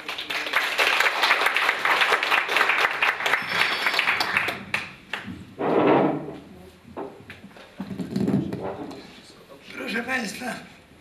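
An audience in a museum hall applauds a professor, dense steady clapping for several seconds that fades into scattered claps, with someone speaking into a microphone after it.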